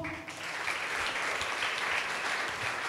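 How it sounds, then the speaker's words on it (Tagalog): Church congregation applauding after a prayer, a dense sustained wash of many hands clapping, moderately distant and even, with no talking over it. "isang palakpak nga po."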